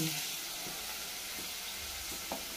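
Onions frying in a pan for an egg curry give a steady, close sizzle with a few soft stirring scrapes, and no one speaks.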